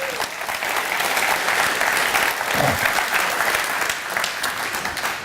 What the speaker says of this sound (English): Y'all clap your hands for him.